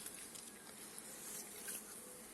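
Honeybees at a small amateur apiary on a hot day with sunflowers blooming hum faintly in a soft, continuous buzz against a quiet outdoor background.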